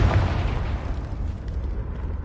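A Confringo blasting spell goes off in Hogwarts Legacy: a loud, booming burst opens, then a rumbling tail fades.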